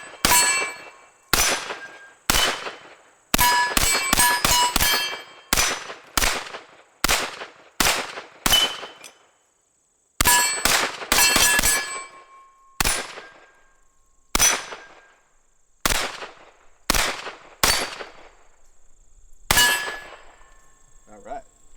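A Taurus CT40 carbine fires a string of 25 rounds: loud, sharp metallic reports in uneven bursts and single shots with short pauses, each crack ringing with clangy echo.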